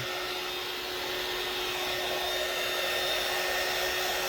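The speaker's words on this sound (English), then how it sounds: "Let me grab my dryer." A hair dryer blows in a steady, loud whoosh with a constant motor whine, running unbroken for the whole stretch.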